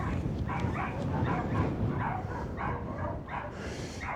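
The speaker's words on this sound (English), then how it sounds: "Have you heard the dogs?" Dogs bark and yip in a repeated, fairly close run of short calls during a fell hike above Ullswater, set over steady wind or ambient outdoor rumble.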